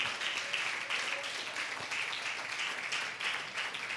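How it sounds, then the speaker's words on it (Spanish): A church congregation at a Spanish-language Bible teaching on Revelation claps in a soft, continuous wash of applause that sounds faint and distant throughout. "Dale un fuerte aplauso a Jesucristo."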